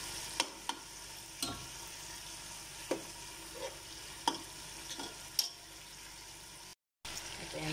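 Chicken breast sautéing in a pan with a soft steady sizzle, broken by sharp clicks of a utensil stirring and scraping every second or so, close by and fairly quiet.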